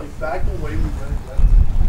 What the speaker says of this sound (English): can probably hear the wind now that I'm facing it.